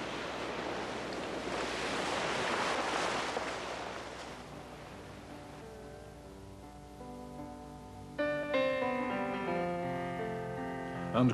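Sea waves break on Tullan Strand with a broad, rushing roar that fades after a few seconds. Soft music with sustained tones then takes over.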